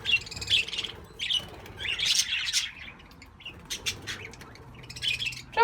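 A budgerigar chirps and warbles in quick, bright bursts of tweets and squawks, close and fairly loud, with short pauses between phrases and no talking.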